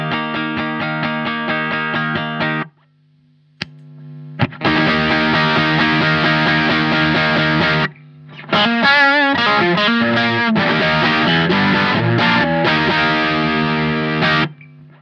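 Electric guitar, a Stratocaster through a Lowrider overdrive pedal, plays gritty, distorted chords and riffs, loud and close, broken by a couple of brief pauses.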